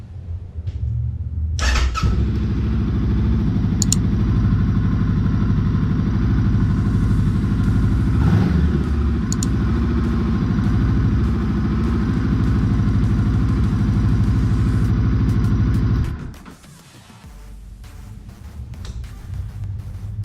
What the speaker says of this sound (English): I'm going to turn on the bike for just 1 second, just to make sure that it's still getting gas and it starts up just fine